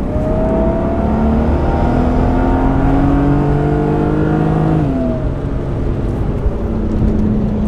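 A BMW E36 M3 engine pulls hard and loud from inside the car, its rising growl climbing steadily, dropping briefly at a gear change, then building again with no talk over it.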